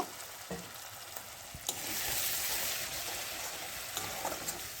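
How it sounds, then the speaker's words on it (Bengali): Spice paste frying in oil in a pan, a small splash of water added and stirred in, giving a steady close hiss that swells into a louder sizzle with occasional scraping taps, no voices. "এবারে আমি এর মধ্যে একটুখানি জল দিয়ে আরেকটুকু কষিয়ে নেব"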